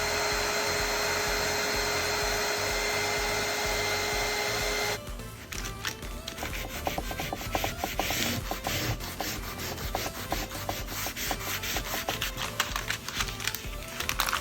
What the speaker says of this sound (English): I went ahead and used my hot gun to remove those labels.